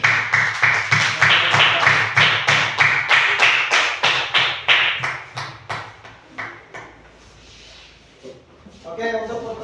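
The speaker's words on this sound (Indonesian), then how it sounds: "Oke, tepuk tangan untuk." An audience at a school event on sustainable living breaks into rhythmic clapping, loud, close and evenly paced, then fades to scattered claps and murmuring voices.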